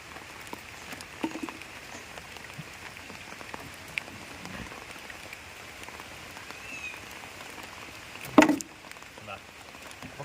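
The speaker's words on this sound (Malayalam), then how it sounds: "നല്ല മഴയാണ് കേട്ടോ" Heavy rain falls steadily beside a village stream, a dense, even hiss throughout with one brief louder splash-like burst near the end.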